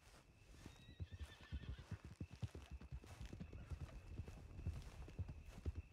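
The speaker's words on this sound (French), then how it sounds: "Il y a mon cheval." A horse in Red Dead Redemption clops its hooves rapidly and unevenly while it whinnies and snorts, sounding agitated, with faint talk in the background.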